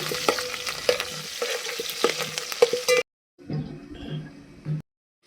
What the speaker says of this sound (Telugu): నూనె వేడైన తర్వాత ఇందులోకి సన్నగా కట్ చేసుకున్న ఆనియన్, పొడుగ్గా కట్ చేసుకున్న పచ్చిమిర్చి, కరివేపాకు వేసుకొని కొంచెం ఫ్రై అయితే చేసుకోవాలి.